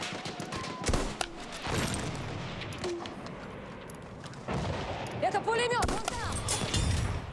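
Vetterli black powder infantry rifle fired in the video game Battlefield 1: several sharp shots ring out over a noisy battlefield of distant gunfire and explosions, with chatter and other game sounds running throughout.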